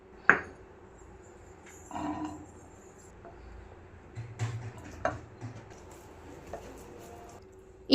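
Boiled chickpeas and potato are mashed together for cutlets, giving close, intermittent soft thuds, squishes and light clinks of a utensil against the vessel, with no talking.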